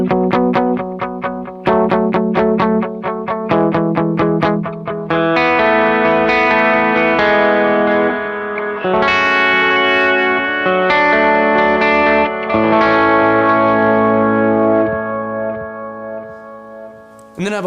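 Electric guitar running through a Strymon Timeline set to tape delay, with picked staccato notes giving way to sustained ringing chords, each trailed by soft repeating echoes, loud and close with no talk.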